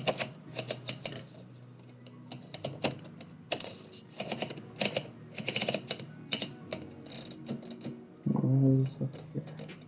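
A manual typewriter tapping out poetry, irregular clusters of sharp key strikes and clacks at close range, with a brief spoken voice near the end.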